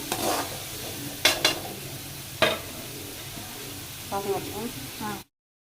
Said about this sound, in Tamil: நல்லா வெங்காயம் வதங்கிடுச்சு